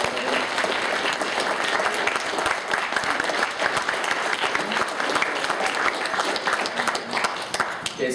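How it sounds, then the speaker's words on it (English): An audience at a panel discussion applauds, a dense sustained clapping from many hands filling the room, steady and moderately loud throughout with no talk over it. "Let's have another round of applause for everybody."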